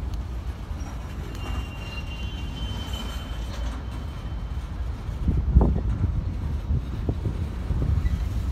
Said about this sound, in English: There's three trains down here.